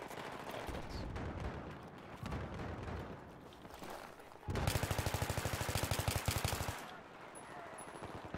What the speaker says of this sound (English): I'm literally shooting at people.